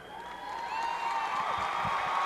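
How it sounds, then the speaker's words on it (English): Steady applause from a wrestling event crowd, a dense wash of clapping that holds throughout, with a few faint voices mixed in. "Let's have a big round of applause for Joel Watts from the UWF, Bill McEwen"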